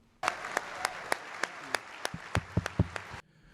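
Large ballroom crowd of about 1,700 guests at a farewell dinner applauding in a standing ovation, a dense steady roar of clapping with louder individual claps popping out near the listener, stopping abruptly at the end.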